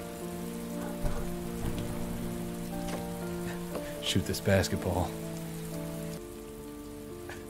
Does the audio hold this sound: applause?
no